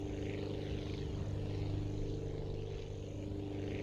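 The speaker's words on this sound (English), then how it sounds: "this is technically an airplane, but it's mostly just flying on the ground" Propeller airplane in the Aviassembly video game straining to lift off, a continuous droning engine hum with steady tonal layers and a faint airy hiss, unbroken for the whole stretch with no talking.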